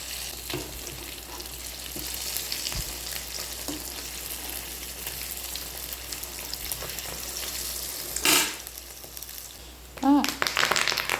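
Fish fry sizzles steadily in hot oil in a pan, an even crackling hiss running throughout, with a brief louder burst of spattering near the end, likely as more ingredients such as curry leaves go in.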